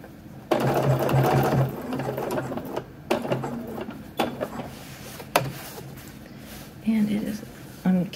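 Sewing machine stitching swim trunks, running in several bursts of rapid mechanical chatter with pauses between, a person talking over and between the runs.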